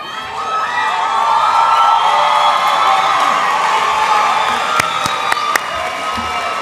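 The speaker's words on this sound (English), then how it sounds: "Un aplauso, por favor." A large crowd at a Latina/o graduation celebration cheers and applauds, with high children's shouts and whoops forming a loud, sustained roar that eases slightly near the end.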